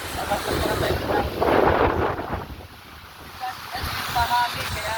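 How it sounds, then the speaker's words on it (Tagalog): Wind gusts across an open vegetable field in the countryside, a steady rushing buffet on the microphone that swells and eases, while someone talks intermittently nearby. "Medyo mahangin"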